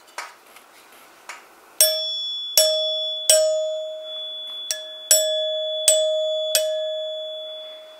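A 1930s NuTone Time-Chime's brass resonating tubes with tone bars ring out after being struck, several separate clear metallic strikes, each sustaining and slowly decaying, preceded by a few faint taps.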